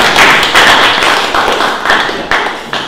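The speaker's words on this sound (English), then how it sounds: "we should have a round of applause because we got over the 7 billionth person" Applause from an audience at a town meeting in Newton, New Jersey: dense, loud clapping that continues steadily without a break, with a few sharper slaps standing out from the mass of hands.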